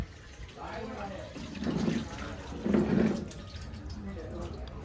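Water pours steadily in a continuous rush into a pot on a wood-fired stove where biryani is being cooked, while people talk nearby, their voices rising over it at moments.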